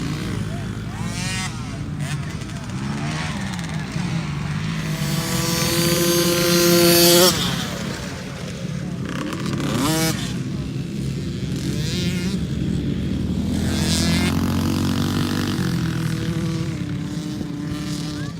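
Dirt bike motorcycle riding on a motocross track at Hangtown, engines revving and rising in pitch, one bike winding up loudly and passing close, with other bikes droning nearby.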